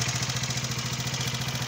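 A Keeway Superlight 125 motorcycle engine idles on test, a steady rapid pulsing chug with even rhythm, close and fairly loud, no voices.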